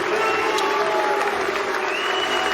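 A bowling crowd at the U.S. Open applauds and cheers Kyle Troup's championship win, a sustained, dense wash of clapping from a large arena audience.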